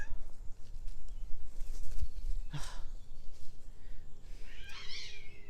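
A single cat meow rises briefly near the end over a low, rumbling background, with a short sharp sound earlier in the clip.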